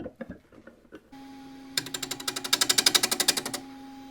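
A wood lathe hums steadily while a turning tool shapes the outside of a split wooden bowl, then breaks into a loud, fast, regular chatter of cuts lasting about two seconds before the hum runs alone again.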